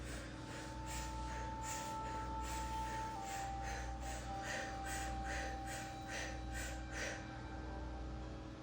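An audience doing a deep breathing exercise at a live talk, with a rhythmic series of breathy inhales and exhales, faint and distant, over a steady room hum.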